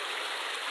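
Water rushes steadily over rocks in a shallow stream, a dense continuous near hiss and gurgle without pause and with no voices over it.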